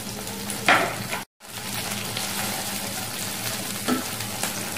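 Ginger and ground spices fry in a pan with a constant close sizzle and a few stirring scrapes, briefly cutting out to silence once before the crackle resumes, no one speaking.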